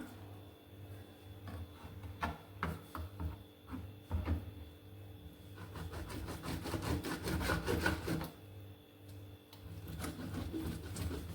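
A knife chopping raw goat liver into small pieces on a board, giving a run of close, irregular wooden taps and scraping strokes that speed up into a dense burst before slowing again.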